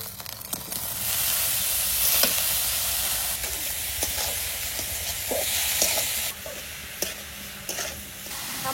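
Banana blossom sizzles loudly in hot oil with fried coconut and chilli, a steady bright hiss broken by clicks of stirring, with no voices.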